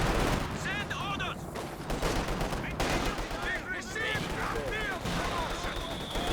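Machine gun fire in a Company of Heroes 2 battle: repeated bursts of gunfire and distant explosions fill the mix, with a commentator talking over the combat noise.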